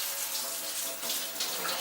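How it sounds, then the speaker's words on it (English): Cold tap water running over a piece of cured gravlax salmon in a kitchen sink, a steady close splashing hiss with slight flutters and no talking. "I'm just going to go ahead and rinse this piece of fish off."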